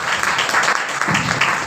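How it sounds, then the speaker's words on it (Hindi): An audience at an income-plan business meeting bursts into loud, dense applause, many hands clapping close and steadily for the whole moment. "और एक जोरदार ताली होनी चाहिए"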